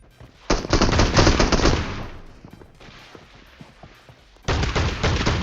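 Bursts of automatic gunfire from a PUBG match: a dense loud volley, a quieter stretch of scattered shots, then another heavy burst at the end.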